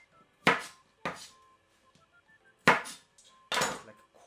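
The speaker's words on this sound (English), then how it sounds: "for our pepper, we're going to chop quite big piece" Pepper being chopped into big pieces on a chopping board: four sharp, close knife thuds at an uneven pace, with quiet pauses between them.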